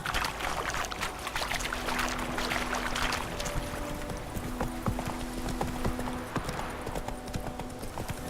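A horse's hooves clip-clop at a steady walking pace in The Witcher 3, close and clear over a soft outdoor background for the whole stretch, with no talking.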